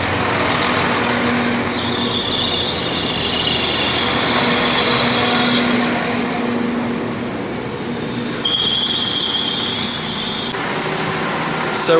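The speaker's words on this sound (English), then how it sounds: "So our train is here." A Class 196 train rumbles in close by, its wheels squealing at high pitch twice as it slows, over a steady low mechanical drone.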